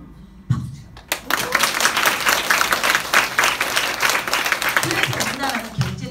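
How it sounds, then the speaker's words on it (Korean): Seminar audience breaks into lively applause after a brief pause, dense clapping that swells and holds strongly, with some crowd noise and a speaker's voice under it near the end. "박수 치요."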